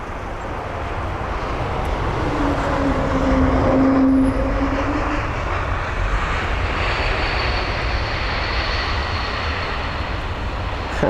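An Embraer E195-E2 jet lands at London Heathrow, its engines giving a loud, sustained roar with a rising and falling whale-like howling tone near the middle, heard from fairly close without speech.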